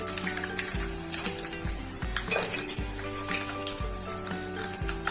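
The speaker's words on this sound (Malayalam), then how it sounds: "അതിലേക്ക് കുറച്ച് പച്ചമുളക് ഇട്ട് കൊടുക്കാം." Green chillies fry in hot oil with spluttered mustard seeds for tamarind rice, a close sizzle punctuated by repeated clinks and scrapes of a spoon against the pan, with music underneath.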